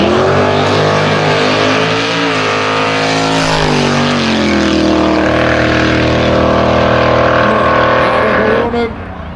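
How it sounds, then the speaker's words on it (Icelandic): A drag race car makes a confirmation run at a street drag racing event, its engine roaring loud and close throughout with a rising, shifting pitch before cutting off abruptly at the end. "þá þarf Eyvindur að taka staðfestingaferð og ætla að lyfta ekki dekkum fyrir okkur"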